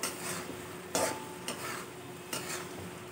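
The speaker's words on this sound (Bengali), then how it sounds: "খুব ভালোভাবে নাড়াচাড়া করতে হবে তলায় যাতে দাগ লেগে না যায়" Mutton keema being stirred in a pan, soft scraping and sizzling under a steady background hiss, with a few sharper spoon strikes against the pan at intervals, no talking.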